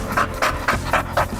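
A two-year-old pit bull terrier pants in quick, steady bursts, about five breathy puffs close to the listener at an even rhythm, with no talking over it.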